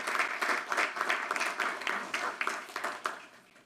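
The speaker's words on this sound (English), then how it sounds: "So let's give them a round of applause," Applause at a city council meeting, many hands clapping in a steady, moderately loud wash that fades slightly toward the end.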